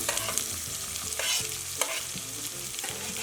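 Green chillies and onion frying in a pan for avalakki oggarane (poha): a continuous close sizzle broken by repeated scraping and stirring knocks at an uneven rhythm.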